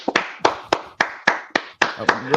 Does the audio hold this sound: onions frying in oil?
no